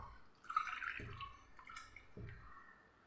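Coconut milk, pressed from grated coconut, is poured into a cup at close range, giving a few soft liquid splashes and trickles with short pauses between them, quiet and with no talking.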